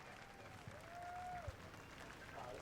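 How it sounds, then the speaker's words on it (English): Applause and crowd noise from race fans at New Smyrna, greeting the winning driver of car number 63. It sounds distant and fairly faint over a steady outdoor background, with a brief thump partway through. "let's get a round of applause for the driver of car number 63, Palm Bay, Florida, Zachary Curtis."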